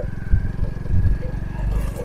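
A motorbike rumbles close by on a loose, sandy tea garden track in Fenchuganj, Sylhet, its uneven engine note mixed with gritty scraping, and a voice speaks over it.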